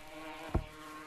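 Bees buzzing in the virtual reality game Gorilla Tag, a brief buzzing swell near the middle followed by a sharper burst at the very end, over a faint background hum.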